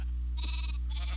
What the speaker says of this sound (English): Okay, now I have too many sheep.